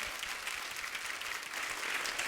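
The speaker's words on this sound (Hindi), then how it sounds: "जोरदार तालियां हो जाए एक बार हमारे कलाकारों के लिए।" A studio audience at a comedy show breaks into loud, continuous clapping for the performers, a bright dense wash of hands that holds steady and swells a little near the end, with no voices over it.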